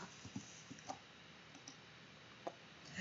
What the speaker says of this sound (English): Dante, what are you typing?